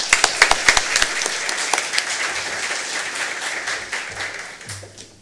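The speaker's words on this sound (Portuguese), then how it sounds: "juntem-se a mim numa salva de palmas" An audience at a corporate client conference in Brazil applauds, opening with sharp distinct claps that settle into a steady, dense round of clapping that fades gradually toward the end.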